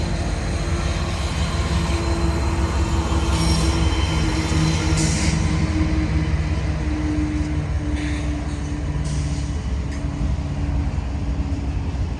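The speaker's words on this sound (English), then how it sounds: "NS 131 will make a set out here in Hattiesburg before continuing south to New Orleans" Norfolk Southern freight train NS 131 rumbling steadily through Hattiesburg, a continuous loud roll of railcars with sustained wheel squeal tones and occasional higher screeches, no talk.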